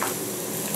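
Soaked wood ear mushrooms with green and red pepper slices hit a hot wok of oil, making a brief, dense and even sizzle up close.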